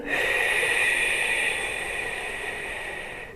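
A long, steady breath out during a pelvic floor and diaphragm exercise, a close breathy hiss that slowly fades over about three seconds.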